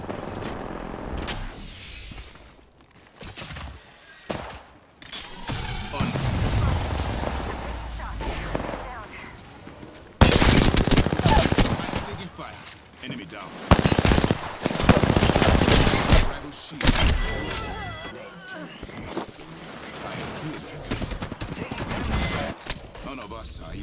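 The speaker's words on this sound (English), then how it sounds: "The enemies are shooting at me." Enemy gunfire in Apex Legends, with bursts of rapid automatic shots and fusillades in loud clustered stretches separated by quieter gaps, mixed with game voice callouts.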